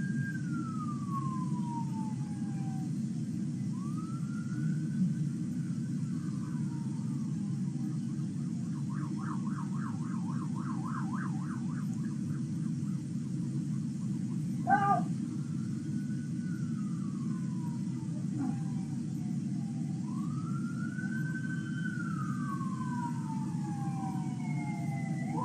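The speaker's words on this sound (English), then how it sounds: "Sirens in the background," Police sirens wail, rising and falling repeatedly over a steady low rumble, with a rapid yelping burst in the middle, heard at moderate distance.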